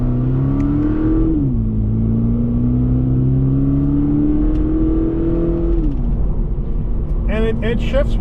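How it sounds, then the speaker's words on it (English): 2023 Toyota GR86 Premium with a 6-speed automatic, heard from inside the cabin as its engine drones steadily and loud. Two quick rev changes mark paddle downshifts. "When you hit that paddle, boom, it fires off."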